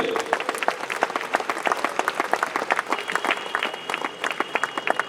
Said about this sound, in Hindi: सभी जोरदार तालियां बजाएंगे।